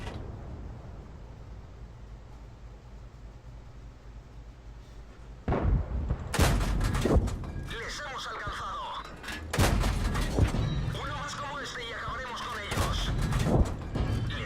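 Tank guns in a World of Tanks battle with a tier 5 T14 heavy tank fire in loud booming bursts, with shells striking and bouncing off armor, several heavy blasts spread irregularly over the stretch while someone talks throughout.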